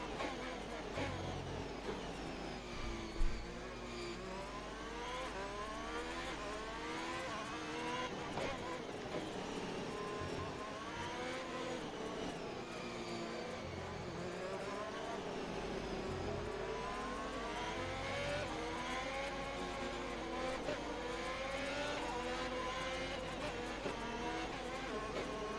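Formula 1 race cars in a racing video game, Azerbaijan round, roar continuously with rising and falling engine whines as gears shift, dense and steady for the whole stretch with no talk.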